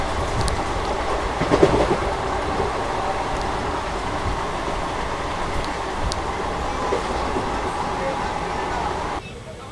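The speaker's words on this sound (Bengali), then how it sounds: "ট্রেন ফুল পিক আপে বেরোচ্ছে।" Sahid Express passenger train running at full speed, heard from inside the coach as a loud, continuous rumble and rattle with rhythmic clatter of wheels on rails, steady throughout before dropping slightly at the very end.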